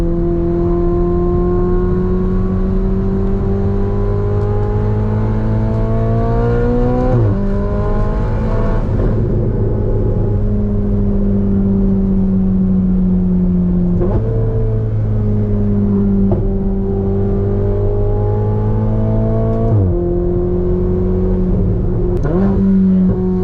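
A Ferrari 488 Spider on a Las Vegas desert road under full throttle, loud rising engine notes climbing through the revs with several sharp drops at gear changes, heard from inside the cabin with no talk.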